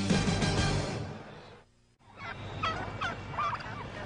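A turkey gobbles in loud repeated bursts amid broadcast noise at the Silverdome during a 1998 Pittsburgh at Detroit NFL game, with a brief drop to near silence before warbling calls return.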